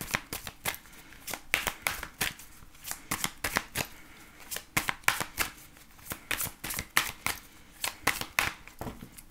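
A deck of angel oracle cards is shuffled close by in quick, repeated riffling bursts, each a crisp papery flutter, continuing rhythmically throughout with no talk.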